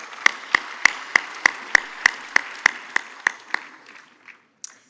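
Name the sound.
audience applause for the speakers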